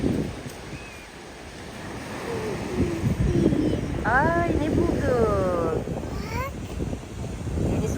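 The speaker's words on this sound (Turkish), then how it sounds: "Karadeniz dalgalı." Black Sea surf breaks on a beach shore with continuous rushing waves and wind buffeting the microphone, while people talk and children's voices come through in the middle.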